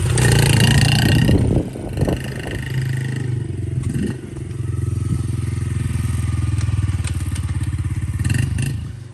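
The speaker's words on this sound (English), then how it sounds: "So if you just put it in neutral, run with it, kick it up into first, and then it'll just turn over." Yamaha TTR50 kids dirt bike bump-started in gear, the small engine catching and running with a loud, rapid putter, preceded by scraping, clattering and wind buffeting close to the microphone.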